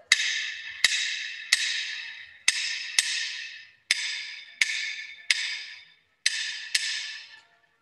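A 3-2 clave pattern from a Latin jazz workshop, five sharp wooden clicks per cycle grouped three then two, heard close and alone, repeating twice with ringing decays between hits.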